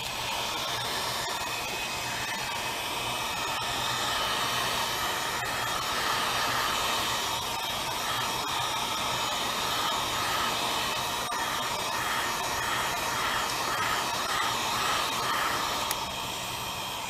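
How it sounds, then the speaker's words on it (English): A heat gun or hair dryer blows steadily for the whole stretch, a constant airy roar with no speech, used to warm the glass and LCD of an LG Optimus L90 phone for removal. "with a heat gun or hair dryer, you can heat it up so you can remove it"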